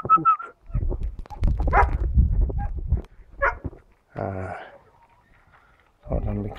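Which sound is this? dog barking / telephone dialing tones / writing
dog barking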